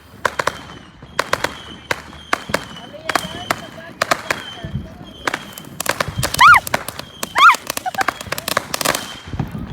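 Small consumer fireworks and firecrackers going off outdoors, with repeated sharp cracks and pops in quick bursts, a couple of whistling rising shots, and people talking over them.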